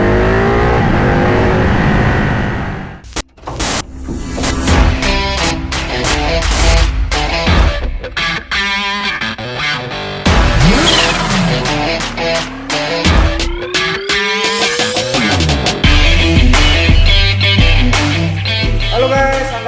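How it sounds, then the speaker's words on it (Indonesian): A modified Ducati Panigale 1199 Tricolore twin-cylinder motorcycle revs and accelerates while riding, its loud, close exhaust rising and falling through repeated throttle blips and gear changes. "Halo guys, saatnya nyoba Panigale Tricolor Head-on."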